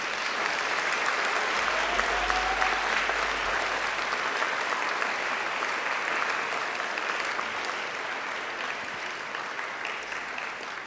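A large graduation ceremony audience applauds in a hall, steady broad clapping that stays loud and even throughout, fading only slightly toward the end.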